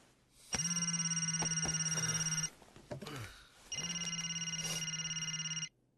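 A telephone rings twice in a movie scene, two long electronic trills separated by a short pause, loud and close with a brief rustle between them.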